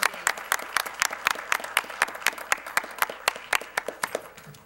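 An audience at a League of Women Voters candidate event gives a round of applause, a few fairly sparse hands clapping in a loose rhythm at moderate distance, tapering off toward the end.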